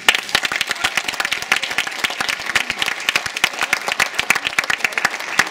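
A room of people at a lunchtime awards event applauds steadily for several seconds, the dense clapping close and loud, with no voices over it.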